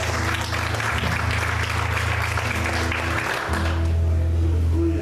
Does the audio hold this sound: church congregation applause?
yes